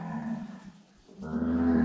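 Cattle are being released from a pen after handling. They give two loud, low moos close by, separated by a short pause, with no talking.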